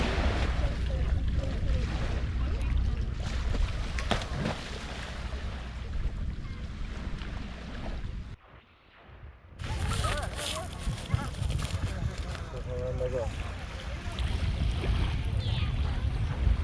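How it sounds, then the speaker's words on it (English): Adriatic Sea waves on a shore, a constant broad rushing wash with wind buffeting the microphone, loud and close, with a brief near-silent gap midway before the surf noise returns. "The salty air and the sound of the waves mark a short pause in our journey"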